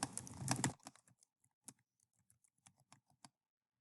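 Computer keyboard typing, close and quiet: a dense flurry of keystrokes at first, then sparse, irregular single clicks trailing off, with no voice.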